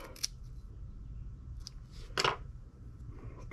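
Scissors snip thread while tying a bucktail fishing jig, two or three short, crisp close-up cuts separated by quiet pauses.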